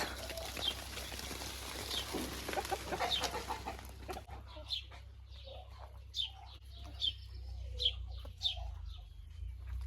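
Chickens clucking around a sugar mulberry tree, scattered soft clucks from several hens at a middle distance over a steady low hum, with a brief rustle early on.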